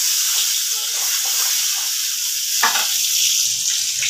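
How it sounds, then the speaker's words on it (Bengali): Eggs fry in a hot pan with a loud, continuous sizzle and hiss. The sound is close and steady, with a brief stirring scrape partway through. "ডিমগুলো একটু হালকা হাতে ভেজে নেব।"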